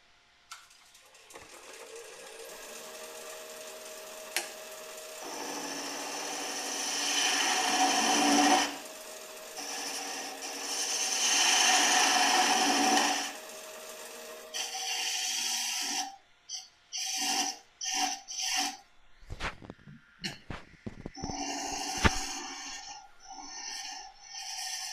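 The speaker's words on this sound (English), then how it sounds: "I want to cut this bottom down a little bit more, shape it a little bit more" Shaping the bottom of a wooden spiral finial brings swelling rasping cuts of a tool against spinning wood, first in two longer passes, then short, choppy bursts separated by pauses.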